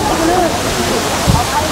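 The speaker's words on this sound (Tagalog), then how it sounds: "Lakas ng bagsak ng falls dito." Malabsay Falls pouring down hard, a steady, close, full roar of rushing water that never lets up, with faint voices underneath.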